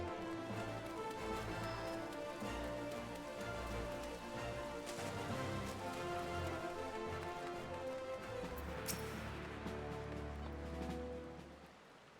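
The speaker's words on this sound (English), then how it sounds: "it's raining out" Steady rain in the video game Final Fantasy XIV patters continuously across surfaces, a dense even hiss with scattered drops, fading slightly at the very end.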